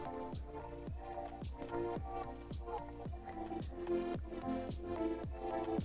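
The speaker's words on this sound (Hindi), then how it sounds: "अब हम मिक्सर को चला देंगे।" An electric mixer kneads wet Turkish halloumi bread dough, producing regular squelching, slapping thuds about twice a second in a steady rhythm, close and fairly quiet with no talking.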